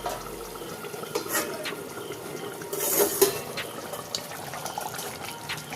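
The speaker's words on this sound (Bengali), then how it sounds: "চাপাটা খুলছি" A lid is lifted off a pot of simmering rohu fish curry, making a metallic clatter midway over a quiet bubbling, kitchen background with a few lighter clinks before and after.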